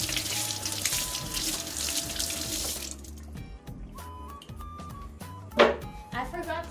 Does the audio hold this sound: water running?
yes